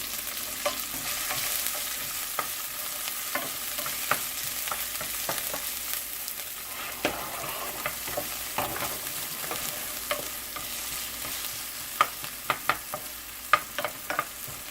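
Cumin seeds and onion frying in hot oil for pav bhaji, a soft steady sizzle with scattered spatter pops and occasional sharper utensil clicks, quiet and without talk.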